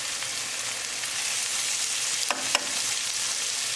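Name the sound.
sautéing pre-cooked protein in a pan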